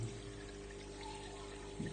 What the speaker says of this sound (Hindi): पानी का इनटेक बहुत तेज है, नजर ही आ रहा है तेज आता हुआ